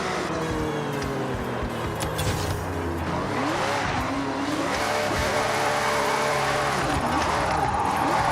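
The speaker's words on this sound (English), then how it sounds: "This car is just so good for drifting." A car drifting in a racing video game, with sustained engine roar and long wavering tire squeals sliding up and down in pitch, loud and continuous throughout.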